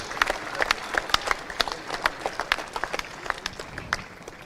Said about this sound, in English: Ladies and gentlemen, big round of applause for them.